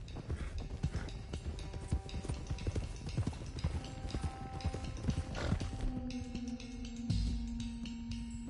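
Horse hooves clip-clopping in Red Dead Redemption 2, a continuous patter of several horses trotting along at a steady pace, with occasional tonal game sounds rising in the background toward the end.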